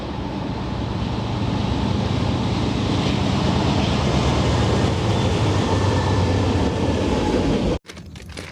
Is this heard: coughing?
no